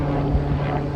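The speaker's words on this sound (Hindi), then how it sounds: "मैंने हेलीकॉप्टर नजर आ रहा है" A helicopter flying overhead, a steady low droning hum with a constant pitch that holds loud and even throughout.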